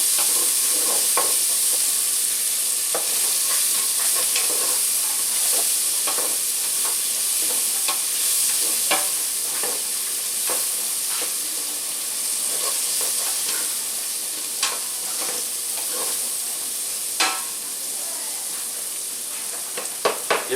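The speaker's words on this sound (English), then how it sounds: "Let me stir it a little more." Chilli with sausage fries in a pan with a steady sizzle and hiss, while a spoon stirs it in repeated scraping strokes that are close and clear throughout, with no talking.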